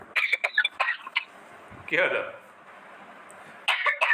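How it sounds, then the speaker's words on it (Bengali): A person with a cold coughs in several short, sharp bursts near the microphone, with brief pauses in between and someone speaking close by. "কাশি পেয়ে গেল।"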